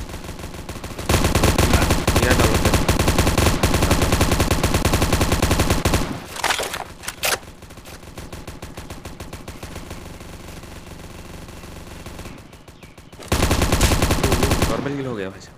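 Dense automatic gunfire in the Call of Duty video game, loud sustained bursts of rapid shots broken by a quieter stretch of scattered fire before another long burst, close and continuous.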